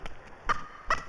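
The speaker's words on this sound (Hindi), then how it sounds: "वो देख, वो हमारा पड़ोस का मुर्गी है" A neighbour's hen clucks in two short, sharp bursts a moment apart, close and fairly loud against a quiet background.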